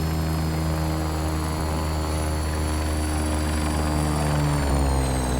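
Simulated Bell 412 helicopter from the X-Trident add-on in Flight Simulator passing by, a steady loud rotor and turbine drone with a high whine, constant throughout without speech.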